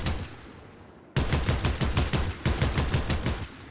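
Rapid bursts of SMG gunfire in Fortnite training, a short quiet lead-in followed by close, loud, evenly spaced shots in two quick strings with a brief pause between them.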